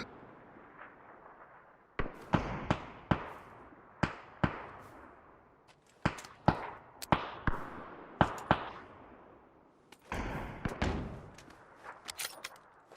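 Gunshots in the battle royale game PUBG crack out as sharp, scattered single reports and quick pairs. Some are loud and close, others fainter and more distant, with short gaps between them.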